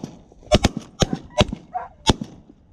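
Several sharp shotgun blasts crack out during a goose hunt at a field edge, five or six loud, close reports spaced irregularly over a few seconds, with a brief honk-like call between them.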